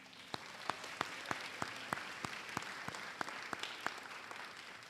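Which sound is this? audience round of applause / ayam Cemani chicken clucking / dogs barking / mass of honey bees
audience round of applause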